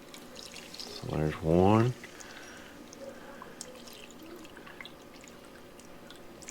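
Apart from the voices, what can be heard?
pouring white vinegar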